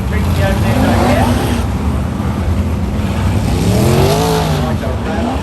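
360 sprint cars race at Premier Speedway during a yellow-flag feature event, engines droning and swelling as cars pass, loud and continuous beneath a commentator's voice.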